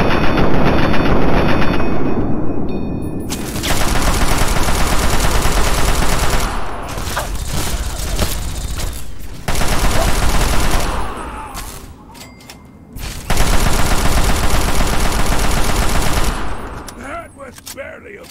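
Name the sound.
gunfire from a companion's gun in the video game Fallout 3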